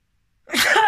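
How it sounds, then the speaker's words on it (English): A single sudden human sneeze bursts out after half a second of silence, close and loud, with a sharp breathy onset that fades briefly at the end. "So I'm gonna sneeze."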